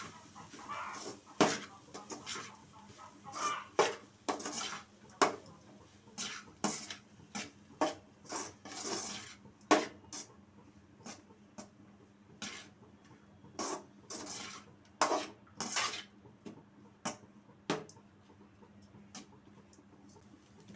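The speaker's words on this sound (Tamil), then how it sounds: "இப்போ கேரட்டும் சாதமும் நல்லா மிக்ஸ் ஆகிற அளவுக்கு கிளறி விட்டுக்கலாம்." A spoon stirs carrot rice in a pan, producing repeated scraping and tapping strokes in an irregular rhythm, close and fairly quiet, with no voices.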